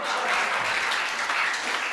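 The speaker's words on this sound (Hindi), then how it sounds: "आप लोगों को तालियां बजानी ही होगी।" An audience breaks into brief, lively clapping during a comedy performance, a dense burst of applause that stays close and full for its whole short span.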